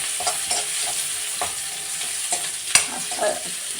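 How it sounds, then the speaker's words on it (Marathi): Finely chopped onion frying in a pan gives off a quiet, steady sizzle, punctuated by several light taps and scrapes as it is stirred, one of them noticeably louder, with no voices. "आता छान याला आपण फ्राय करून घेऊया."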